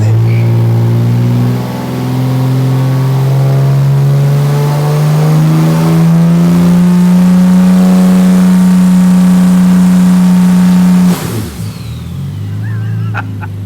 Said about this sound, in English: There's the shed skid done and dusted